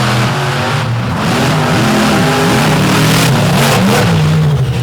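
A drag racing car launches down the strip, its loud engine roaring and rising in pitch through rapid gear changes as it pulls away, with no talk over it.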